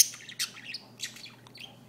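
A young female budgie named Kylie chirping indoors, a few quick bright tweets and short squawky chirps spaced irregularly, fairly close, with a low steady hum underneath and no talk.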